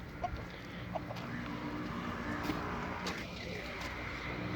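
Chickens cluck softly in a yard, with a few faint scattered clucks over low background noise and a quiet voice in the background.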